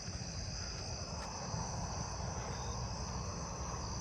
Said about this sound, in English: Oh, I hear a Japanese burrowing cricket somewhere.